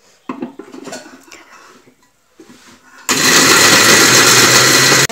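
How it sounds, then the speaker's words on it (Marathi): A kitchen mixer grinder whirs loudly and steadily as it grinds pieces of chapati into crumbs, starting abruptly after a stretch of quieter clattering and handling sounds and running on alone. "चपाती मी मिक्सरवर बारीक करत आहे."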